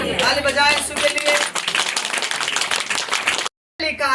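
A church congregation claps for Jesus in a loud, busy burst of overlapping hand claps that rings steadily, drops out for a short gap and then comes back.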